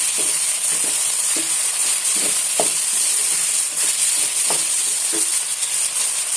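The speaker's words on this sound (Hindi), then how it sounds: "जिंजर और गार्लिक के पेस्ट और साबुत मसालों के साथ यहाँ पे मैं चिकन को अच्छी तरह से फ्राई कर लूंगी।" Chicken fries in oil with ginger-garlic paste and whole spices, giving a steady close sizzle and hiss broken by regular soft knocks and scrapes of stirring, with no talking.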